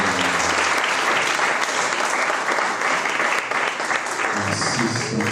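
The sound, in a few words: congregation applauding and cheering for Jesus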